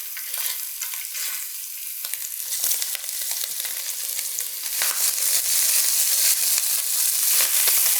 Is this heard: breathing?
no